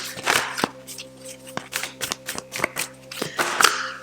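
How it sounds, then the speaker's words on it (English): An oracle card being drawn from a Work Your Light deck, with crisp, close shuffling and flicking of cards in quick rapid bursts, fairly loud and with no talking. "I'm going to pull your second oracle card here from the Work Your Light deck."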